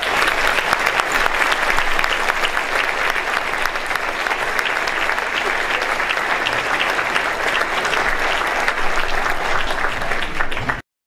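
Sustained applause from a luncheon audience welcoming author Matthew Desmond, a dense, steady clapping crowd filling the room at even loudness for about ten seconds before cutting off abruptly.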